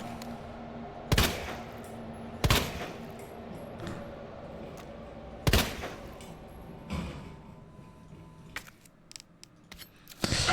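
Gunfire against zombies in Resident Evil 2: several sharp, separate shots spaced a second or two apart, with softer clicks and thuds in between.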